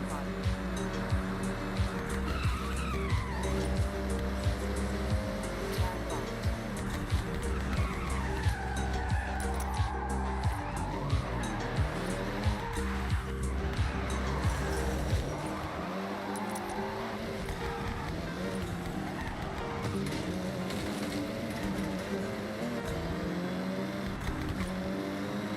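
A car in Forza Horizon drives and skids, its engine droning steadily with tire squeal and revs rising and falling, while someone talks over it; the engine cuts out abruptly partway through, leaving quieter sound.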